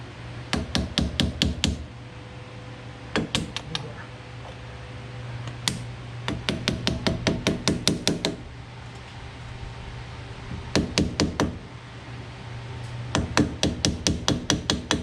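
Bursts of rapid hammer taps driving a cap tightly into place, in quick clusters separated by short pauses, crisp and close, repeating several times without talk.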